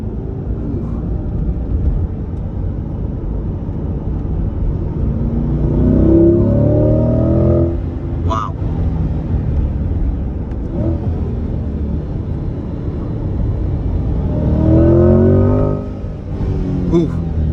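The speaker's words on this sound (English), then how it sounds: "in track mode, this exhaust sounds incredible" A 2022 Corvette C8-R Edition's engine rumbles steadily in track mode, swelling into two louder revving surges, with talk mixed in over the throaty exhaust.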